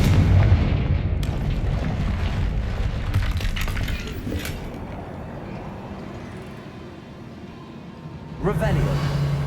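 A Confringo blasting spell in Hogwarts Legacy sets off a heavy explosion, a loud rumbling boom that decays slowly before a fresh burst near the end, with a voice speaking over it.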